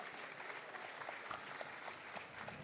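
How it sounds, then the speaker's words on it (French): Faint, distant audience applause at the SHOP! Awards 2025 nominee announcement, a steady patter of clapping from a crowd heard low and far off. "on veut des applaudissements"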